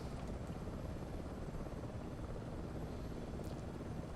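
An MH-60 helicopter in Microsoft Flight Simulator 2024, a steady, dense rotor and turbine drone held at even loudness, close and continuous throughout with no voices.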